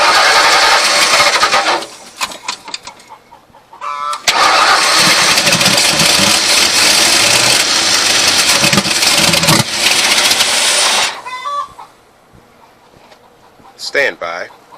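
A 1994 Ford F150 engine cranks, catches and roars loudly, drops away, then cranks and runs again before cutting out. Voices talk alongside it.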